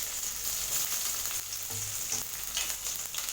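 Dried red chillies and chopped onion fry in a pan for mint rice, making a dense, continuous sizzle with faint stirring scrapes, no voices present.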